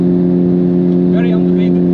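A Honda Civic Type R FK8 driven flat out on the Nürburgring gives a steady, loud droning engine note from inside the cabin, with a person talking over it.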